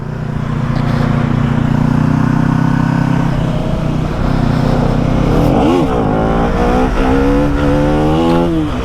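KTM Duke 250 motorcycle engine loud and close, holding a steady drone before revving hard in rising and falling surges during a wheelie, with no talking.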